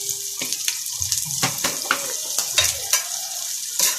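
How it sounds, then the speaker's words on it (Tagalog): Sizzling sisig is stirred in a hot pan, with irregular scraping and clattering strokes over a bright, close hiss, and no voices. "Haluin mo dyan"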